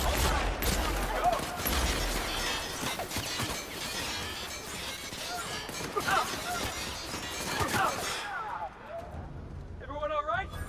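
Gunfire and crashing impacts in the video game The Outer Worlds, dense bursts of shots and smashes piling over one another for most of the stretch, loud and busy, easing toward the end.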